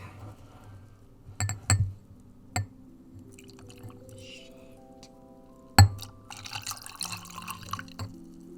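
Iced tea is poured into a glass at a home cafe counter, with clinks of ice against glass and a liquid pour building to a splashy trickle toward the end, close and fairly quiet.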